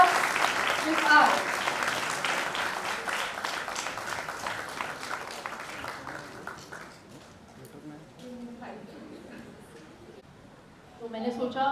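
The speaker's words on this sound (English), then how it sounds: "Let's welcome Shilpa ji with a much bigger round of applause" Audience applause welcomes Shilpa Shetty at the launch of Dr Hansaji's book The Sattvik Kitchen: dense, sustained clapping for about six seconds that then thins out, with voices in the room afterwards.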